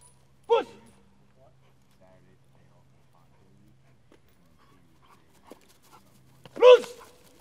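A special operations canine gives a sharp whimpering yelp early on, then near silence with faint rustles and small sounds, before a second louder drawn-out whine or yelp near the end.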